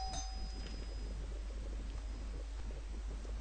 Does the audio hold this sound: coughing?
no